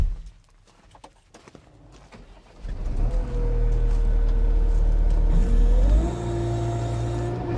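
A 2022 New Holland C332 compact track loader's engine cranks over and fires up, settling into a loud, steady diesel idle with a rising whine after a few seconds of quieter handling noises.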